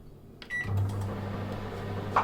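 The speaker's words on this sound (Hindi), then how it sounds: "ओवन प्री हीट हो चुका है। इसको मैं 7 मिनट के लिए रखती हूँ।" A preheated oven in a home kitchen hums steadily after a pizza goes in, with a low drone rising in over a few soft clicks and a short beep near the end.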